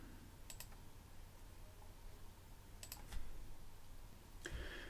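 Fingers type an email address and password on a computer keyboard, a quiet, close patter of key clicks with a few sharper taps standing out, over a faint hiss of room noise.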